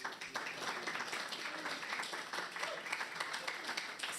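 Audience at a pro-life speaking session claps in a steady, moderately faint patter of many hands, continuing evenly from start to finish without talk over it.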